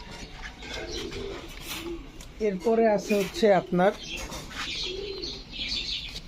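Racer pigeons, including a female, coo in a short series of throaty, rolling calls near the middle while someone talks over them, with faint chirps in the background.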